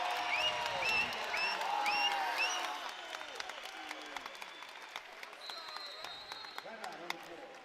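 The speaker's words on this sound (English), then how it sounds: "Now the crowd starts to come to life." Crowd noise fills a basketball arena during a college game between Montana State and Utah State, a broad roar under an announcer's talk, with squeaking sneakers and bouncing ball thuds throughout.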